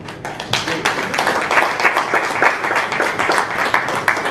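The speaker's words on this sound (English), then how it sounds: "But you are clapping for yourself" An audience claps in a dense, continuous patter of many hands, with sharper individual claps standing out, lasting about four seconds at a fairly loud, steady level.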